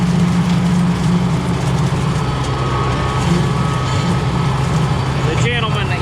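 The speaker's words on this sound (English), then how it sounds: "There's a nice, I think it's an M4800 Kubota. But two-wheel drive with the loader" A Kubota M4800 two-wheel-drive tractor fitted with a front loader runs steadily at close range, its low diesel drone constant throughout with no talk over it.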